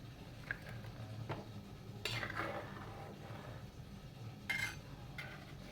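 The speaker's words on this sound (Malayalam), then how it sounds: "തവി വെച്ച് ചെറുതായിട്ട് അരപ്പ് ചുറ്റിച്ചു കൊടുക്കാം" A ladle stirs fish curry masala simmering in a pot, giving soft scrapes and a few light metallic clinks over a faint bubbling background, fairly quiet.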